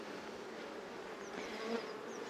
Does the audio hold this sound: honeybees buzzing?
yes